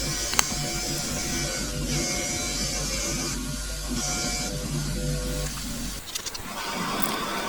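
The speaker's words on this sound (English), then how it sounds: "more wire brushing action on the spacer" A wire brush scrubs a wheel spacer from a Suzuki A100 motorcycle: a steady, close buzzing and scraping that runs without a break for about six seconds, then stops, with no talking.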